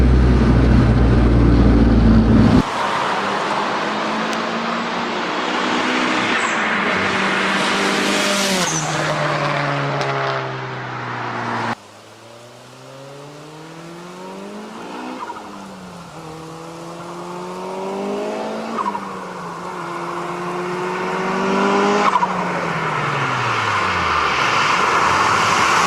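A loud 400-horsepower Honda Civic engine revs hard through rising and falling gear shifts, whining up and down as it passes close, with occasional tire squeal.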